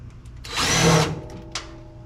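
A power drill drives a screw into the body of a 1981 Dodge D150 pickup to mark a hole, giving one rising whir of about half a second, close and fairly loud, followed by a brief faint buzz.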